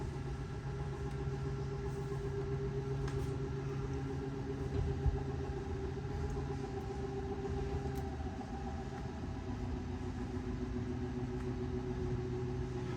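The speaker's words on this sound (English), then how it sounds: "you're gonna hear the whines and the clicks of the motor." Forest River Wildwood 33 TSX travel trailer bunk slide-out motor running, a steady mechanical hum with sustained tonal whine and occasional faint clicks, continuous and moderately loud throughout.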